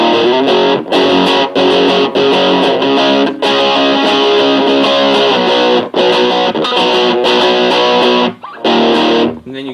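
Loud, saturated electric guitar chords ring out the outro, sustained distorted strums broken by brief choked pauses, dipping briefly near the end before picking back up.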